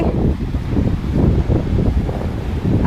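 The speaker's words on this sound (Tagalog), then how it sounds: "May malaking alon. Paparating." Sea waves rush and roll continuously, mixed with heavy wind buffeting the microphone, loud and close.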